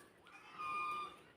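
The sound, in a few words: caged black chickens clucking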